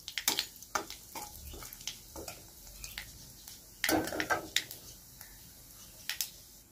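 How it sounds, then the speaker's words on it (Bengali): A spice tempering of cumin fries in a pan while being stirred, quiet oil crackle under frequent sharp clinks and scrapes of a spoon against the metal, with one louder clattering burst midway. "এটা নাড়ব, ভেজে নেব ফোড়নটা"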